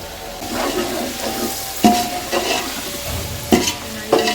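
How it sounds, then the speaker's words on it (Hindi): Chicken fries with salt in a pot for pulao: continuous close sizzling, with several sharp scraping clanks from stirring spaced through it. "बस इसी में अभी फ्राई होगा ये।"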